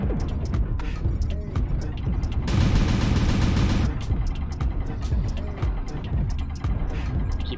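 Mech weapons firing in MechWarrior Online, a rapid stream of loud, sharp cracks with a dense burst in the middle, over a heavy rumbling mechanical background.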